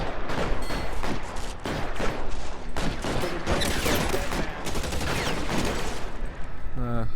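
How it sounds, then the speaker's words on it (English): Automatic weapons fire in a gunfight in the video game LA Noire: dense, loud, continuous bursts of rapid gunshots with overlapping reports and game voices, ending in a short whining effect. "Automatic weapons."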